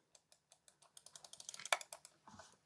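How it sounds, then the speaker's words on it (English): An old, worn Logitech MX Master mouse gives a run of small, faint clicks, evenly spaced at first, then quicker and denser, with one sharper snap near the end. "let's hear the click on this"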